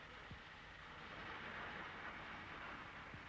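Flying Scotsman steam locomotive on an electric line, a steady rumbling, clanking train noise held at an even level throughout as the engine slows toward a stop.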